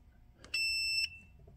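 A continuity tester gives a single clear electronic beep of about half a second while checking a connection on a homemade velostat matrix keyboard, sharp and close against a quiet room.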